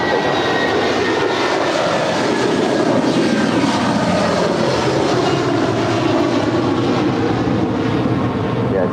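An airliner rolls for takeoff on runway 25 Right at LAX, a steady loud roar of jet engines filling the whole span with little change in level, like a continuous broadband rush.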